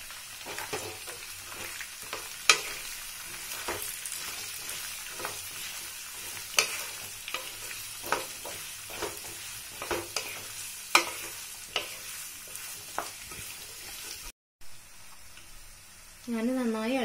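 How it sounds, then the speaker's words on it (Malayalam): Chopped small shallots sizzle in a pan for a chicken dish while a spoon scrapes and stirs them in repeated sharp clicks over a steady frying hiss; near and moderately loud, briefly cut off near the end before a voice starts speaking. "നമുക്ക് നന്നായി ഇളക്കി കൊടുക്കണം."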